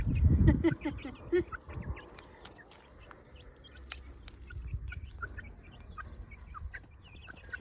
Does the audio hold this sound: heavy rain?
no